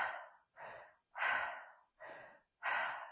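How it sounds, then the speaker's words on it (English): Quick rhythmic mouth breathing during an energising breathwork session, five breathy rushes in about three seconds, alternating in and out, close and fairly loud with short silent gaps between each breath. "So breathing in and out of the mouth."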